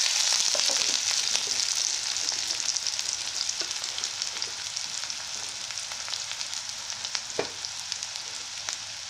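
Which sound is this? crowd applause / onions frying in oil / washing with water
onions frying in oil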